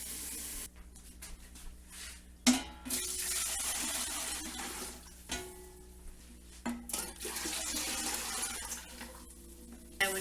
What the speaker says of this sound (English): Just use a pitcher. I have a marking right there that shows my 1 gallon mark. And I just fill it up 3 times.